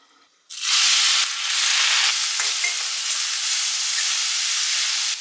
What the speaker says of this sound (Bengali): তেলের মধ্যে প্রথমে আমি পেঁয়াজ অ্যাড করে দিয়েছি, পেঁয়াজটা কিন্তু ফাইনলি চপ করবে